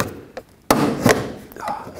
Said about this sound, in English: I'm gonna sneak the tool behind here and just pop the clips off of the door panel.